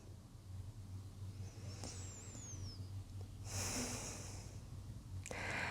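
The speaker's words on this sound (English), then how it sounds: "Feel how the breath flows in and out through your nose." During a quiet yoga session, soft breathing in and out through the nose stays faint and close, with one fuller airy breath standing out partway through.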